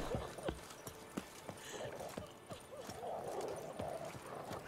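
Hooves clip-clop at a steady trotting rhythm, with a horse's neigh rising partway through, all fairly quiet and close, from the video game The Witcher 3.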